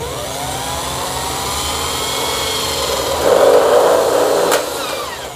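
A loud power drill whines steadily while boring into a frame for a simple NFT hydroponic setup, its pitch rising as it bites in before it stops abruptly.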